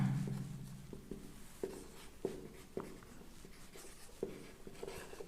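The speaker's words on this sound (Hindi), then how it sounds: "तो नीचे लिखते हैं संपूर्ण" Chalk or marker strokes tap and scrape across a board as an equation is written out, a series of short distinct knocks and scratches at a steady, unhurried pace, close and fairly quiet with no talking.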